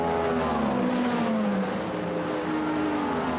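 Ferrari and Cadillac hypercars race side by side at Spa in the WEC, their engines roaring loud and continuous with a pitch that slides down as the cars pass, and no commentary over them.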